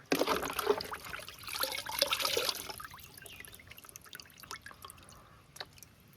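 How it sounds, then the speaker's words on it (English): Water runs and drips while a BMC air filter from a Kawasaki ZX6R motorcycle is rinsed. A denser splashing flow at first thins into scattered, fairly quiet drips. "Just rinse it. See how dirt is coming out."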